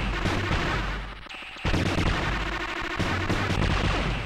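Gunfire and explosions from the Silkworm video game on C64, ST or Amiga, a dense run of loud blasts and rapid shots, with a short lull before the barrage resumes.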